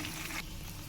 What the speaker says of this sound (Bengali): ক্যাপসিকাম দিয়ে দিলাম, দিয়ে ক্যাপসিকামটা একটু ভাজতে দেবো